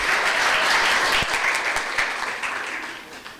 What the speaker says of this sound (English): let's welcome them all with a warm round of applause